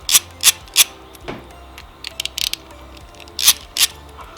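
Metal clicks and ratcheting taps from a 4mm hex key working loose the bolts of bar-end mirrors on a Royal Enfield Continental GT 650 or Interceptor, a few sharp close clicks in short bursts with pauses between.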